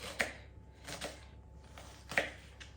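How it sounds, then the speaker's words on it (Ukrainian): A knife chops an onion into quarter rings on a board, three or four distinct, sharp cuts spaced unevenly, close and fairly quiet with no talking. "нарізаємо цибулинку. Цибулю можна, я буду четверть кільцями."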